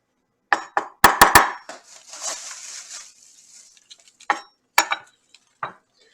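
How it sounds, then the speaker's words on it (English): A knife chops celery in a quick burst of crisp cuts, followed by a few scattered chops after a pause. No one speaks. "I might as well just be chopping while I talk to you."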